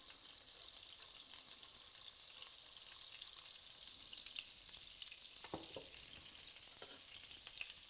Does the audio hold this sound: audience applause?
no